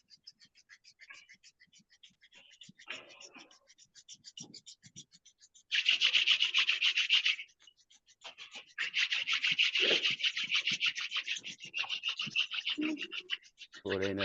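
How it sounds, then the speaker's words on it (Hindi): Both hands rubbed briskly together during a guided gratitude meditation, a dry hissing friction in sustained bursts with short pauses between, fairly close and alone without talk. "गर्म होने तक दोनों हाथों को रगड़ेंगे"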